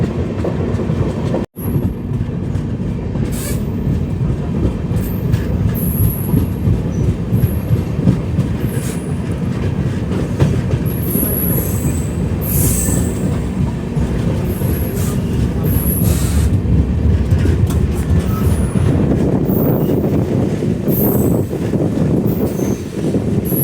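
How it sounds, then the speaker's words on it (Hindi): The Sairang Rajdhani Express, train 20508 from Anand Vihar toward Mizoram, rolls slowly along the rails. A steady loud rumble of wheels and carriages carries light clatter and intermittent high wheel squeals throughout. "बहुत ही स्लोली हमारी ट्रेन अभी बढ़ रही है आगे।"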